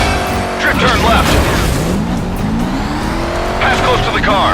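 A racing car engine in the video game Stuntman: Ignition revs loudly while tires squeal through a drift, with sliding screeches rising and falling and a voice speaking over it.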